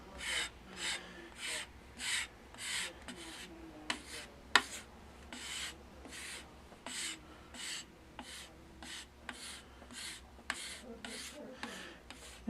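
A putty knife spreads diamond compound across a leather strop in steady back-and-forth scraping strokes, about twenty evenly spaced soft rasps, close and quiet.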